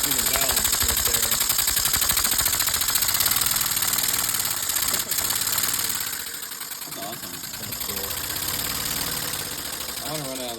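A 3D-printed air-powered motor being broken in, running with a rapid, steady mechanical chatter and hiss of air, close and loud, slowing slightly partway through.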